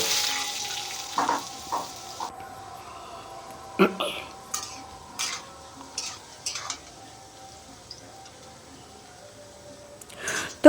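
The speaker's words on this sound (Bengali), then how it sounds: "এইবার আমি কেটে ধুয়ে রাখা আলুটা লাল করে ভেজে নেবো" Cut potatoes frying in oil in a home kitchen, a faint steady sizzle under scattered clinks and scrapes of a utensil stirring in the pan, with a voice speaking briefly.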